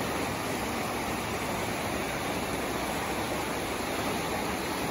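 Steady, broad rushing water from a waterfall in Canyon Glen Park, Provo, a continuous even roar at low level with no breaks or voices.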